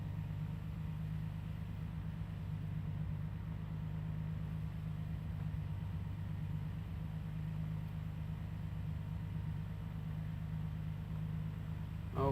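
BMW E30 engine idling on a dyno, a low steady hum and drone that holds constant under a faint background hiss, slightly uneven at idle after a tuning change, with no voices.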